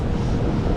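Cold, piercing wind buffeting a cyclist on a bikepacking ride in Norway, a steady roaring rush that fills the brief moment loudly and without pause.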